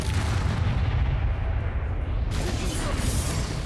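Confringo spell blast in the video game Hogwarts Legacy, a loud low booming explosion with dense rumbling noise that drops briefly then surges again, no talk.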